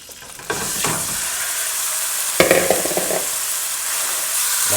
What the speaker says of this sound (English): The meat's starting to sizzle, so we want to put the rest in.